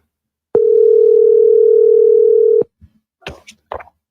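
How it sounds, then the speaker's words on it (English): A single steady electronic telephone ringback tone sounds loud and clean for about two seconds during an outgoing call, followed by a few faint clicks and handling noises. "Did y'all hear that ringing?"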